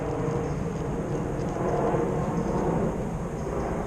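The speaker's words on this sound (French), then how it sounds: "Attends que l'avion passe." A broad, steady roar of an airplane passing overhead, swelling slightly near the middle and holding level, with an outdoor rumble and no talking.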